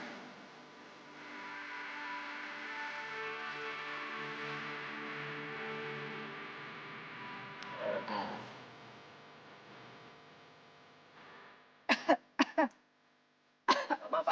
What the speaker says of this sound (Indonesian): Apaan sih batuk-batuk mulu dari tadi?